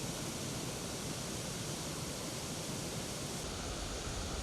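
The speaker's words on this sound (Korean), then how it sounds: "비봉폭포입니다." Bibong Waterfall in the Kumgang Mountains, a 139 m fall, pours as a loud, unbroken hiss and roar of water, steady throughout with no other sounds.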